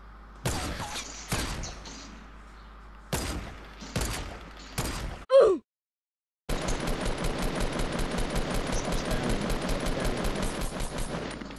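In a Fortnite Battle Royale match, several separate single gunshots crack out, then after a short silence a long, steady burst of rapid automatic fire follows, loud and close.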